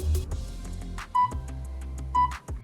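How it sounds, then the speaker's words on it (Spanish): A budget Lloyd's home security camera gives its Wi-Fi detection signal, two short electronic beeps about a second apart over faint ticking and low background hum, close by but fairly quiet. "y ese es el sonido de la detección de Wi-Fi."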